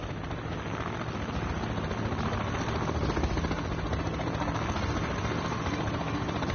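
A helicopter flies overhead with a steady, loud, unbroken rotor and engine roar that holds at an even level throughout, with no other sounds standing out.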